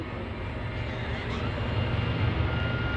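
A World War II B-25 bomber taking off at an airshow, its piston engines producing a steady, broad, loud roar that holds even and slowly builds across the moment.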